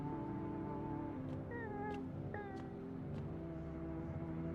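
A cat meows several times in quick succession, moderately close, with short rising and falling cries over a steady low background hum and no talking.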